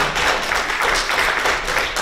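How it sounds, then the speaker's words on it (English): Audience at a legislative forum breaking into applause, a steady patter of many hands clapping fairly close, rising and falling slightly over two seconds with no talking. "Hold your applause till the end."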